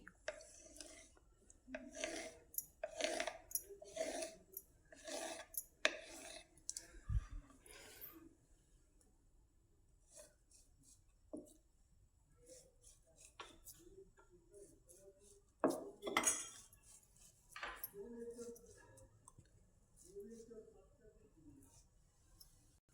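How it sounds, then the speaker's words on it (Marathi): A knife slices a rolled sheet of millet flour and jaggery dough into strips, giving a series of soft, close cutting taps in rhythmic bursts, while a person talks quietly between cuts. "लाटी आपली तयार झालेली आहे हिच्याशी उभे काप कप कापून घ्यायचे"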